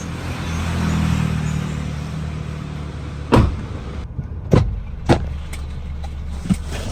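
A 2009 Honda Jazz GE8 manual pulls away, its engine note rising steadily over the first few seconds, then giving way to several sharp thumps and knocks from inside the car.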